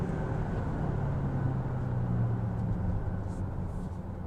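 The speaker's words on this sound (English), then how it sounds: "let's mash the gas once again" A 2024 Volvo XC90 Recharge plug-in hybrid SUV accelerates hard under full throttle, giving a steady, loud low rumble of engine and road noise heard from the cabin, with no talk over it.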